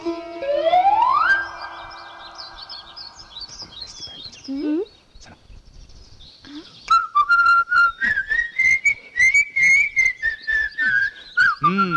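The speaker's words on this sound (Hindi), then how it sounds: "ये सीटियाँ किस खुशी में बजाई जा रही है" Loud human whistling comes up close, with a long rising whistle, then a sustained warbling tune broken into rapid repeated blasts, and several short whistles overlapping across the stretch.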